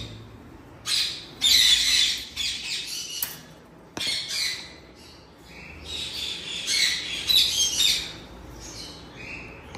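A male Alexandrine parakeet lets out loud, shrill squawks in irregular bursts, several harsh calls close by with short quiet gaps between them.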